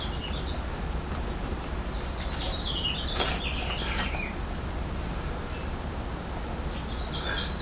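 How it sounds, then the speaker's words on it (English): Birds outdoors in a quiet setting, several faint chirps and short song phrases rising over a steady background hiss, some calls close and others distant. "So quiet, you can hear the birds."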